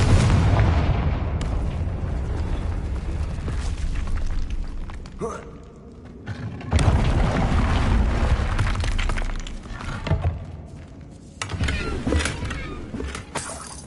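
Confringo fire-blast spell explosions in a Harry Potter video game, loud crashing booms and shattering debris in a dense, continuous barrage with brief dips, heavy rumble throughout.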